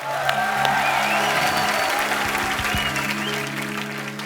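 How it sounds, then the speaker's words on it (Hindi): Studio audience applause on a comedy talk show, a steady dense clapping that fills the room for several seconds and fades slightly toward the end, with a faint voice underneath. "तालियां पहले हो जाए जरा"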